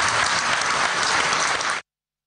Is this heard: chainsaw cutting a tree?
no